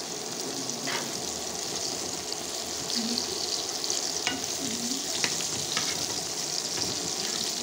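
Bitter gourd frying in oil in a pan, a steady close sizzle with occasional stirring and scraping as pieces are turned over, no talk.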